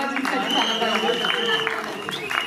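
Audience applause rolls through a Marathi film celebration event, sustained clapping mixed with crowd noise and a voice speaking over it.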